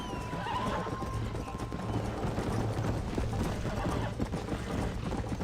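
A horse in the Red Dead Redemption video game gallops with rapid clip-clopping hooves and lets out a whinny, running steadily under spoken dialogue and game sound.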